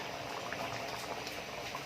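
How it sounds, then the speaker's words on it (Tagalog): Water bubbling in a pot at a steady rolling boil, close and continuous, with no talking over it. "Yan, kumukulo na siya."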